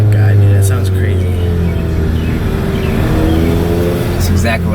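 A car with a DSG transmission revs hard and downshifts, a loud near engine roar with pops and crackles at the start and end and excited voices over it.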